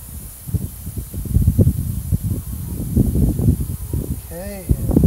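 Water sprays from a ball cock nozzle on a VicTsing 50 ft expanding hose with brass fittings: a steady, even hiss that runs the whole time beneath low voices and a few brief chirps.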